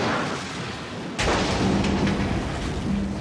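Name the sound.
refinery tank explosion sound effect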